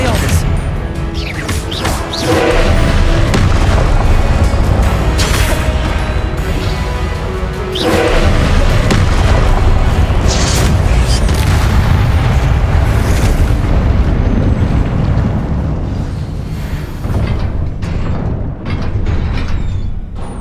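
The Confringo explosion spell in Hogwarts Legacy bursts during a Map Chamber trial, with loud, heavy booms and crashing blasts repeating over a dense, continuous rumble of game sound.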